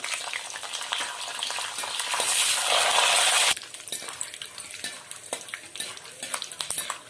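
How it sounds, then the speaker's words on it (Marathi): Peanuts roasting in hot oil in a pan for murmura chivda, a bright hiss that surges then drops, followed by repeated scraping and rattling as they are stirred. "आता आपलं तेल गरम झालेलं आहे। आपण त्यामध्ये शेंगदाणे परतून घेणार आहोत।"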